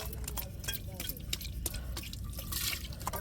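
A scrubbed cooking pot, cleaned with ash, is rinsed under water, giving steady close splashing, dripping and trickling with a few sharper drops throughout.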